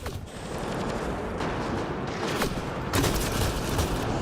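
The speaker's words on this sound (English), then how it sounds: "Is there someone shooting at me from up here?" Gunfire in the video game Mass Effect: Andromeda, a dense continuous burst of rapid shots and blasts that grows louder toward the end, with no speech.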